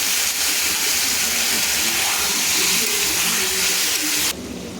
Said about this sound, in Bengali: তো এখানে দিয়ে দিচ্ছি একটা ছোট বাটি এক বাটি জল